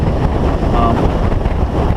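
Steady, heavy wind roar buffeting the microphone on a motorcycle (Honda CBR500R) riding fast across a bridge in strong crosswinds, a dense low rumble with no pauses.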